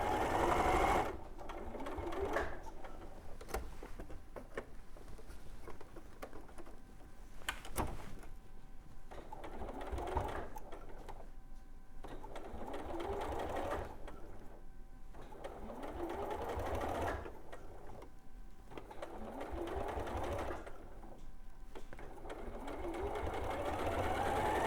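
A sewing machine stitching the seam of a rabbit toy, whirring in several steady runs with brief pauses between them, moderately close, with faint background noises.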